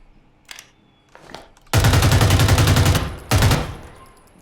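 Rapid automatic gunfire in the Rainbow Six video game, a long sustained loud burst followed by a shorter one, preceded by a few faint lighter shots.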